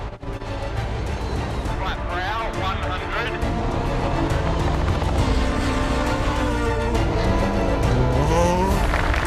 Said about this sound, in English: This car is just an absolute dream to drive.